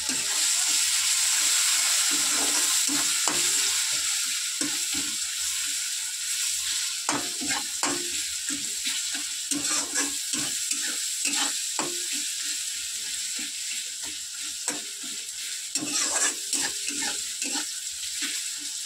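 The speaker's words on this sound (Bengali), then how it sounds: "এবারে রসুন বাটা দিয়ে দিল। বাটা না, এটা ঠিক, এটা থেতো করে নেওয়া হলো।" Crushed garlic sizzles in hot oil in a pan, a steady hiss running throughout while a spoon stirs and scrapes with irregular clinks, close by and without talk.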